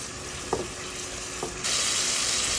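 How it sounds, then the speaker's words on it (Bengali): A spice paste frying in a pan gives a steady, dense hiss, with two brief stirring knocks and a louder surge of sizzle near the end. No one speaks. "এখন মশলাটা ভালো করে কষানো হবে।"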